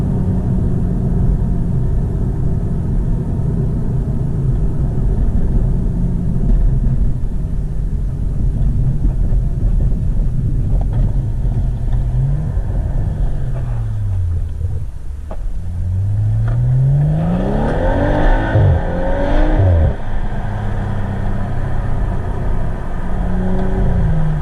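BMW F21 M135i accelerating hard through the gears from inside the cabin, a continuous loud engine drone with pitch rising and dropping at each early upshift.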